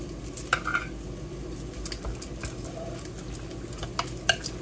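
Browning onions sizzle in a pan as a spoon stirs them, the soft steady frying hiss punctuated by light clicks and scrapes of the spoon against the pan, up close.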